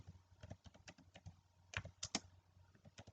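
Rapid, irregular keystrokes on a computer keyboard, close and clear, clicking in quick bursts with brief pauses.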